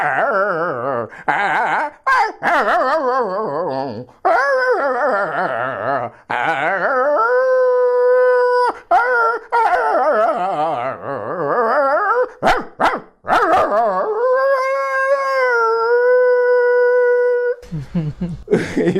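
A mimicry artist imitates a dog with his voice, producing long wavering howls that rise and fall in drawn-out, sung phrases, broken by short yelps and a few barks near the end, close and loud.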